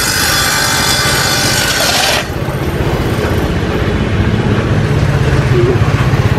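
Marble slabs being cut or ground on a construction site at a village shrine, a loud continuous grinding rasp for the first two seconds, then a rough scraping work noise with background chatter.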